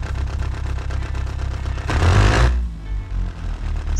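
An inline four-cylinder engine in the Automation car game idles with a loud, steady low rumble, then gives a brief rev with a rushing burst before settling back to a throbbing idle.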